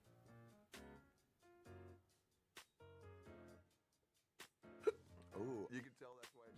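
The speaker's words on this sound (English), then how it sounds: "I'm getting hiccups" A person hiccups several times while talking casually. The hiccups are short, sharp, isolated catches that punctuate the speech.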